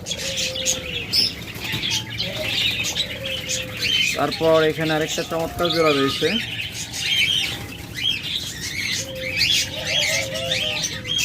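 Caged lovebirds at a bird market chirp busily and flap their wings in a brief flurry midway, while someone talks over the steady twittering.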